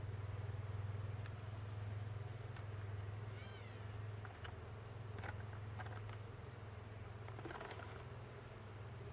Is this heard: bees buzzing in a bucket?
yes